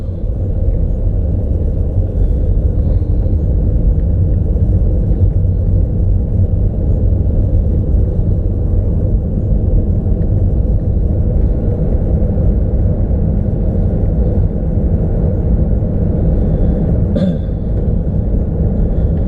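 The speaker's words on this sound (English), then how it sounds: "I've got 20-inch rims on this car and low profile tyres, and it's given it a fair bit of road noise." Steady low rumbling road noise from 20-inch rims with low-profile tyres inside a moving car, constant and loud with no speech.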